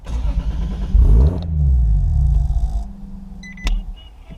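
A Toyota JZX100 Chaser engine revs hard, rising to a loud roar held near the rev limiter for a couple of seconds before dropping away, followed by a sharp mechanical click and a quieter idle.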